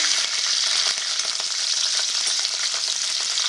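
Broken dry red chillies fry in a couple of spoons of oil in a kadai, giving a steady, dense sizzle with fine crackles throughout, close and fairly loud, with no voices.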